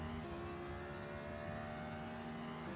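A DKR Cadillac race car engine in a racing video game at the 24 Hours of Daytona, a loud steady droning whine held at constant pitch, onboard and alone.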